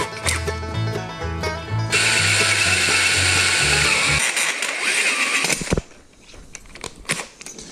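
A ratchet rapidly clicks while undoing the top bolt on a rearset of a 2005 Suzuki SV650, loud and close, followed by some clattering handling noise and quieter mechanical sounds.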